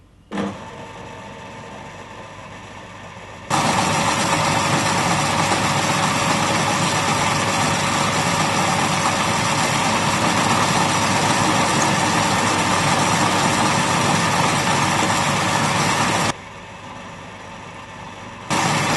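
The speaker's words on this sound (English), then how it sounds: "And we can turn our drill on now, and we're going to use the process called peck drilling." An electric drill whirs loudly and steadily for a long stretch, peck drilling through metal, starting and stopping abruptly, with a quieter motor hum before and after.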